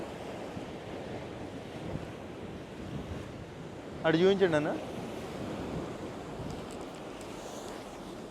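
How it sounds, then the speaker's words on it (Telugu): Waves crash onto a rocky shore at Coco Beach near Dar es Salaam, a continuous roar of surf blended with gusty wind on the mic, and a brief spoken voice midway. "అటు చూడండి. అసలు అలలు మామూలుగా లేవు"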